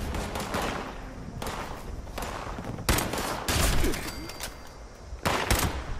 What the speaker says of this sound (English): Oh, okay, now I'm being shot.